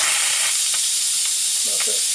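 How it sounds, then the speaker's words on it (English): Steam rushing from an Instant Pot pressure valve while it releases after cooking a pot roast, a loud continuous hiss heard close with a few faint knocks and no talk. "Let that steam take off out of there"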